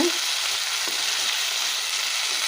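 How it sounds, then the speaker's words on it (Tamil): Tomatoes sautéing with rock salt and turmeric for a green turkey-berry kuzhambu, a steady close broadband sizzle with faint stirring, continuous and alone throughout. "கல்லுப்பு சேர்த்தோம்னா சீக்கிரமாக வந்து வதங்கிடும் தக்காளியெல்லாம்"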